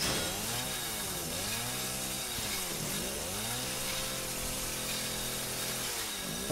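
A chainsaw in the video game Resident Evil 7 roars loud and close, its engine revving and dipping in sweeping pitch bends over a harsh, steady grinding noise, with no voices.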